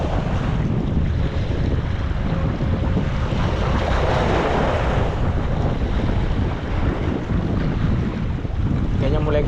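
Strong wind buffets the microphone while waves slap and surge around a small fishing boat at sea off Tanjung Pinggir, a loud, continuous roar with no pauses.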